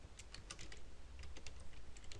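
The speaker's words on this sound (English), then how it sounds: "So we can type in whatever text we want." Quiet, rapid typing on a computer keyboard: a steady run of light key clicks with no voices.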